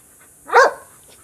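A dog lets out a single sharp bark, loud and close, in an otherwise quiet room.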